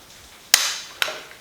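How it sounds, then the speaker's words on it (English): Two sharp metallic clicks from a torque wrench reaching 25 foot-pounds while tightening the crankshaft of a Porsche 911SC engine, about half a second apart, each trailing off briefly in a quiet workshop. "now I can do the first torque step of 25 foot-pounds, which I think will come during this throw"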